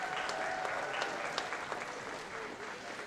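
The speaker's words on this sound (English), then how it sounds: "Please give them a round of applause." An audience at the Ketchikan Wearable Art Show 2023 applauds in a dense, steady burst of clapping that fills the room, fairly loud and continuous, with no talking over it.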